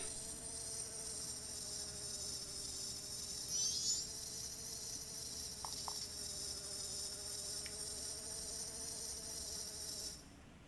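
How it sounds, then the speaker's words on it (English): A bee buzzes steadily in The Legend of Zelda: Majora's Mask 3D, a continuous drone held for about ten seconds over a constant layer of game ambience before fading near the end. "A bee?"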